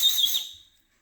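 One sharp, high whistle sounds loud and close, holds briefly, then fades away within a second.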